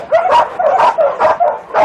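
A dog rescued from a dog meat farm gives a close, loud run of about six rhythmic yipping barks mixed with whimpers, each burst coming roughly every third of a second.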